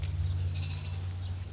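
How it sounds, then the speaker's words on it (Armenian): A sheep or lamb bleats near village houses in Armenia, a short, wavering cry over steady low background hum. "գառ, ոչխար,"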